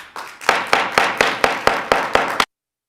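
About eight evenly spaced, sharp claps ring out at a city council meeting, close and fairly loud. They stop abruptly, leaving silence for the final half second.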